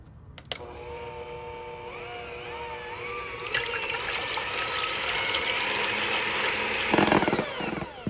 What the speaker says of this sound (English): And let's whisk.